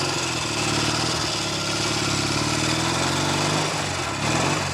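A Norton Navigator 350 motorcycle with a faulty gearbox that has lost second gear runs on a road test, its single engine note droning and shifting pitch as revs rise and fall, loud and close.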